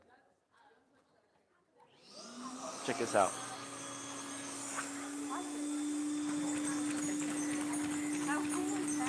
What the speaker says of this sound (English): they run off a vacuum cleaner